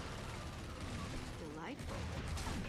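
Gunfire in the video game Gears of War, a dense, continuous spray of shots with mechanical clatter running the whole time, loud and close, with a voice talking over part of it.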